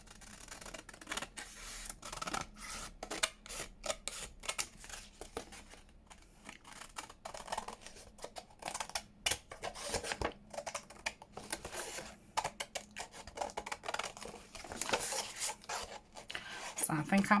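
Scissors cutting around printed paper images for a craft project, a long run of soft snipping and rustling paper, close and fairly quiet with short pauses.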